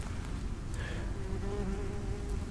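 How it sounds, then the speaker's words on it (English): Wasps buzz steadily around food left out for squirrels, including monkey nuts and peanut butter, a close, continuous drone with one nearer insect passing by. "We're getting quite a few wasps."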